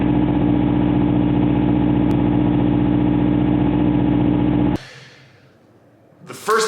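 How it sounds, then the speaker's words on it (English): Car engine idling with a surging idle, RPM rising and falling: a loud, close, steady engine drone that cuts off abruptly, leaving near-quiet before a short noise at the end. "the engine RPM is going up and down and up and down"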